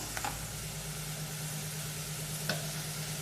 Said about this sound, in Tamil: ஆனியன் நல்லா ஃப்ரை ஆகட்டும். பாருங்க, வெங்காயம் வந்து இந்த மாதிரி நல்லா வதங்கிடணும்.